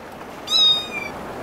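One clear cat meow, close and fairly loud, rising then trailing off over about half a second against quiet background noise.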